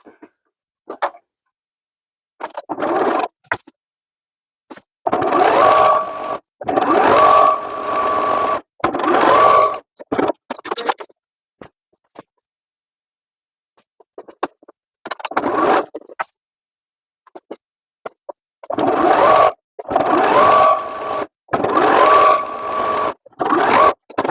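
A sewing machine runs a straight stitch along the side seams of a pullover top, close and loud, in several bursts of steady whirring separated by pauses and quiet handling of fabric.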